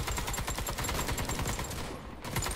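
Rapid automatic gunfire in the shooter game Warface on a Christmas map, loud sustained bursts of evenly spaced shots that briefly drop off near the end before resuming.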